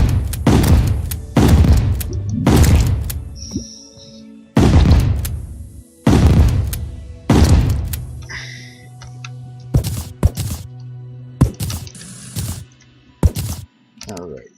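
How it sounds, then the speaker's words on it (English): Explosives detonating in Terraria, a run of heavy booming blasts in quick succession followed by sharper, shorter bursts, loud and close, with a voice talking in between. "Explosions are fun."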